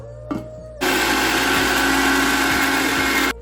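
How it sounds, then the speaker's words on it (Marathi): An electric mixer grinder whirs loudly and steadily grinding chopped gooseberries and ginger for about two and a half seconds after a brief clunk, then cuts off. "चिरलेले आवळे हे मिक्सरमध्ये बारीक करून घेऊयात पहिल्यांदा"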